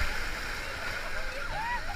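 River rapids wave crashing over a whitewater raft, a loud continuous rush and splash of churning water, with voices shouting over it.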